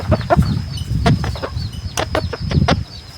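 A small-sized decoy rooster crows and clucks in a farm setting, with several short bursts and calls repeating over a steady background of low fowl noise, fairly close and loud.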